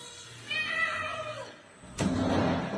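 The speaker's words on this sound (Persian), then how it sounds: "گربه اومده تو" A cat meows inside a boys' school dormitory at around 3 a.m.: one drawn-out, fairly quiet meow, followed by a short sharp knock or rustle nearby.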